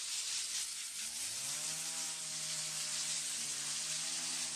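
A small motorized trimmer whines at a distance, its engine pitch rising and then holding steady under a wash of hissing background noise.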